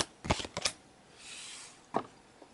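Trading cards from a booster box being shuffled, a few quick riffled bursts close by followed by a pause and one more short flick, quiet otherwise.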